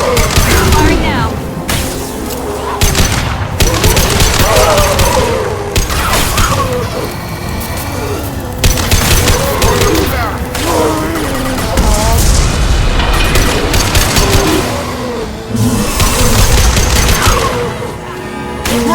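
Dense gunfire and booming impacts from the Mass Effect 2 video game, with rapid bursts and heavy blasts close and loud across the scene, with voices speaking in between.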